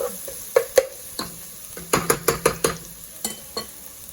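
Onions sautéing in a pan for jerk tofu, heard as scraping stir strokes and sharp utensil clanks against the pan in an irregular series, with a faint sizzle underneath.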